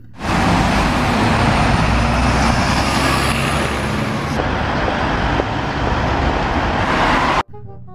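Double-decker bus passing close by with a loud, sustained roar of engine and road noise for several seconds, then cutting off abruptly.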